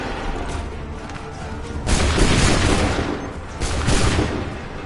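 Musket volleys in an Assassin's Creed game, with massed gunshots erupting in loud, rolling bursts that swell and fade twice over a steady battlefield din.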